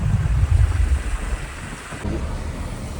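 Heavy rain and gusting wind buffet a truck on the road, a loud, rumbling roar of wind that eases slightly partway through, without any speech.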